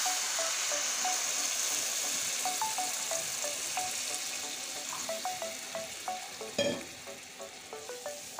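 Spice paste fried in oil in a cooking pan for a boal fish curry with aubergine and mustard paste, giving a steady close sizzle with scattered stirring clicks and one sharp hiss midway as water goes in.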